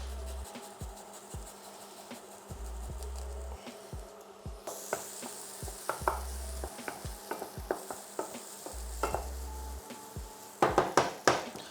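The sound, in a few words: garlic frying in pan for cottage pie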